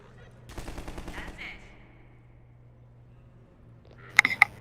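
Half-Life 2 gunfire while zoomed in: a short rattling burst of quiet automatic shots early on, a pause, then a few louder sharp cracks near the end.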